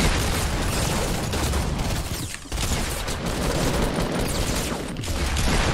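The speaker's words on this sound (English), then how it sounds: "I did eight damage with a shotgun blast to that guy" A shotgun blast in Fortnite sits within a dense, continuous wash of loud gunfire and booming, with rapid overlapping shots filling the whole stretch and no clear pauses.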